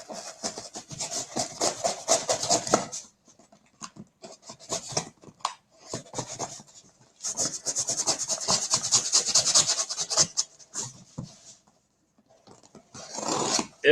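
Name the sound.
cutting open a cardboard box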